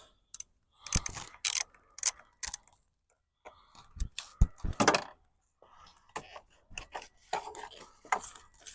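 A ratchet wrench removes a 10 mm bolt from the transmission mount of a 2007 Mazda CX-9, giving short bursts of sharp metallic clicking separated by brief pauses, close and fairly quiet.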